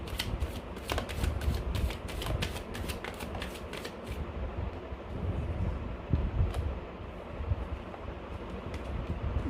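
Tarot cards are drawn out and shuffled close up, a quick run of crisp riffling flicks followed by softer sliding and handling noise over a low background rumble.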